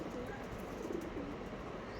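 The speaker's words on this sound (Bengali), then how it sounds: "ফুলশিরার মধ্যে লাম্বাডি পায়রা" Andhra Lambadi pigeons at a loft giving soft, low cooing against steady background noise, faint and fairly distant.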